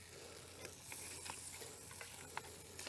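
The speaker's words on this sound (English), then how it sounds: "all we need to do is stir it" A bush-cooked stew bubbles and is stirred in a pot over a campfire outdoors, a quiet crackling sizzle with a few soft knocks of the spoon and no talking.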